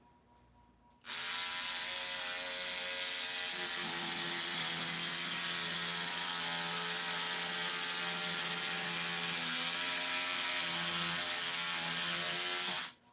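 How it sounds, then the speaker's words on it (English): A loud electric shear buzzes steadily for about twelve seconds trimming peel ply on forged carbon fiber, its motor pitch dipping slightly as it works, then cuts off abruptly. "I've got a very fancy electric shear"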